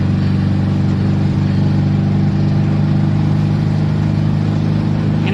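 A VW Fastback car driving on a snowy road, its engine giving a steady low hum and continuous road rumble heard from inside the cabin, with no talking.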